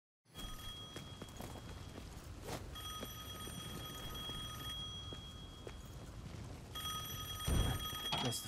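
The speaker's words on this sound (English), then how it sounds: "Guess the phone still works." A telephone rings in the video game Devil May Cry 5, sounding three bursts of shrill electronic trilling at a steady rhythm over a low rumbling ambience, with heavier thumps near the end.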